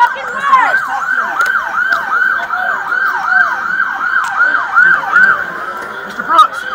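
An ambulance siren wails in loud, rapid repeating sweeps at an emergency scene during a police incident, steady and close throughout with faint background commotion.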